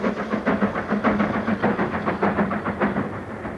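A steam locomotive hauls a train west of Salisbury, its rhythmic chuffing and rumbling wheel beat pulsing steadily and fairly close, with no voices over it.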